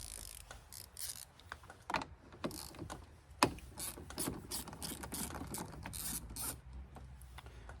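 Ratchet wrench loosening the 10 mm positive battery clamp on a Honda, a close, quiet series of rapid clicking strokes repeated in short bursts, with no speech.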